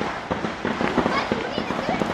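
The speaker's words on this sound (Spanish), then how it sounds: "¿Qué tiene bombas adentro? Está lleno de bombas adentro." Firecrackers packed inside a burning devil effigy pop in rapid, crackling bursts during the Quema del Diablo tradition in Guatemala, heard outdoors at a moderate distance beneath nearby voices.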